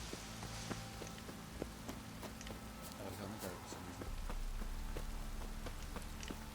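Rain in The Witcher 3: Wild Hunt patters steadily at low volume, with scattered sharp drip ticks over a soft hiss that swells slightly toward the end.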